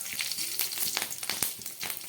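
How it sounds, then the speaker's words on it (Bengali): Bay leaves and green chillies sizzle in hot oil for a vegetarian bottle gourd ghonto, a close, steady crackling hiss with sharp spitting pops scattered throughout. "এই তেলের মধ্যে দিয়ে দিচ্ছি দুটো তেজপাতা আর দুটো কাঁচা লঙ্কা"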